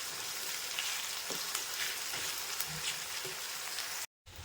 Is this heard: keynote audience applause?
no